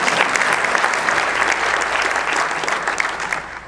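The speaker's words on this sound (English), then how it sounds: "It's all right, you can clap." Audience applause at a synagogue's Night for Israel event in Boca Raton, a dense, steady wash of clapping from a large crowd that continues throughout and eases slightly near the end.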